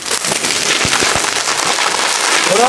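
A large Sivakasi flower-pot firecracker fountain sprays out with a loud, continuous dense hiss and crackle that holds steady throughout, with a few low thumps near the start.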